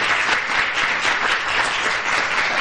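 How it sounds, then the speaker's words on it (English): A studio audience claps loudly and continuously for a short burst, dense applause close to the microphone with no talking over it. "where's my applause?"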